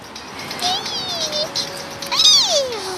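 A cat meows twice, high and drawn-out, the second call louder and rising then falling, over a faint background hiss.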